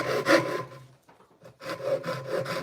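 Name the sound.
handsaw cutting a wooden board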